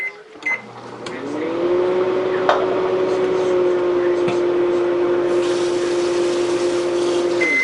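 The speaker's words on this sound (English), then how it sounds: "So you might want to stick that in the microwave for like" A microwave oven hums steadily with a low electrical drone after a few clicks and a beep start it running.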